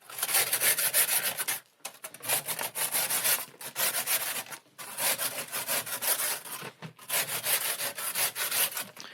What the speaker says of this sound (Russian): Первый раз пилю